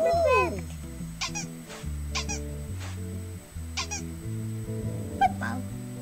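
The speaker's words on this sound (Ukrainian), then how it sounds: "Мяу-мяу!" Cartoon cat meowing in the Sago Mini Friends video game, with high squeaky mews and short chirps set over bright, looping game music.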